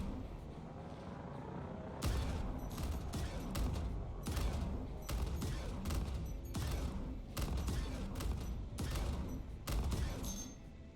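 Ship weapons in the Star Citizen space game fire at a Caterpillar ship in rapid repeated bursts, loud booming volleys in an uneven rhythm over a low rumbling hum, with no talk.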